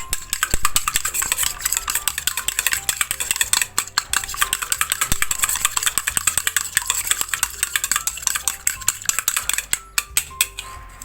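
Egg batter for crispy potato fritters is whisked in a bowl, a steady run of quick, close clinking strokes against the side that stays loud and even throughout and comes without any talk.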